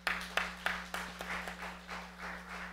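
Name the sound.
congregation applauding in church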